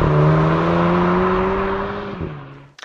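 Volkswagen Golf 8 GTI with its 2-litre TSI engine accelerating, a steady close engine drone that holds its pitch, dips slightly near the end and then cuts off abruptly.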